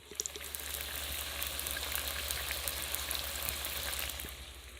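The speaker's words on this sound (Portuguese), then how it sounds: "Essa é a carne cheia de água fritando, tá vendo? Olha o barulhinho que ela faz," Water-laden sausage meat fries in a pan while being prepared for canning, giving a continuous close crackling sizzle with rapid popping bubbles and a low steady hum underneath, no speech.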